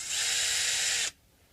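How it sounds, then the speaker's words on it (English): An electric screwdriver whines steadily at high speed while backing screws out of a left-handed Stratocaster guitar, running close and loud for about a second before cutting off into near silence. "Let me first remove the screws"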